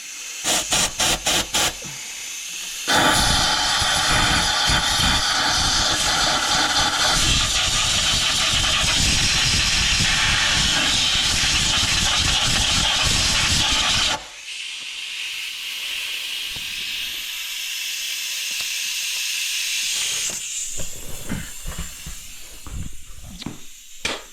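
Compressed air blasts out a hole in a 6.0 diesel engine: a few short puffs, then long, loud, steady hissing bursts, a pause, and more hissing that trails into sputtering puffs.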